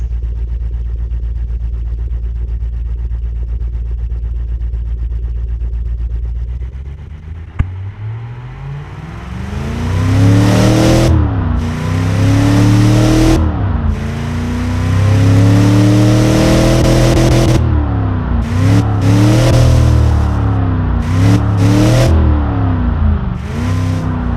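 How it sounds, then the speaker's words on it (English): Mopar 440 V8 in the Automation game idles with a steady low rumble, then revs repeatedly, rising and falling in loud sweeping pulls that keep returning toward idle. "I'm gonna leave it like idling a little bit."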